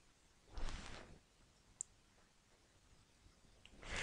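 Computer mouse clicks while working in YouTube channel settings: a soft burst near the start, a single sharp tick in the middle and another faint click at the end, quiet and close against low room hiss.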